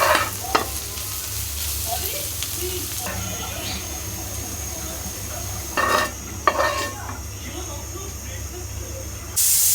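Bilimbi fruit cooks in a pan, with a continuous sizzle and hiss, occasional sharp clinks of a utensil against the pan, and a low background hum throughout.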